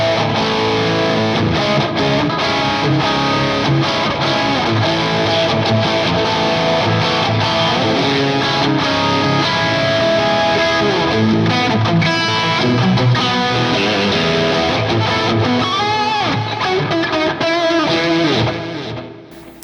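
A Kiesel Jason Becker Numbers electric guitar with a Floyd Rose bridge, played through pickup position 2 with heavy distortion, plays fast, dense riffs and lead lines, loud and continuous, fading out at the end.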